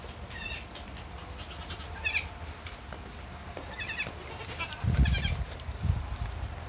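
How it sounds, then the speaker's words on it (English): A little goat bleats several times in short, high, wavering calls spaced a second or two apart, with low handling rumbles and soft farmyard background between the cries. "Come play with the little goat."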